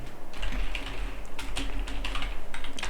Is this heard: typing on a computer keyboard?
yes